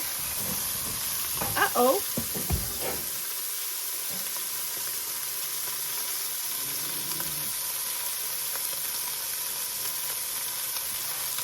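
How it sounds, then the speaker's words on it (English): Ground hamburger meat fries in a pan with a steady, close sizzle and crackle throughout, after a brief burst of voice and clatter near the start. "we got our hamburger fried here"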